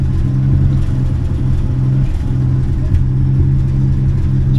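A 1967 Plymouth Valiant project car idles with a steady, loud low rumble that holds even throughout, with a brief dip near the middle.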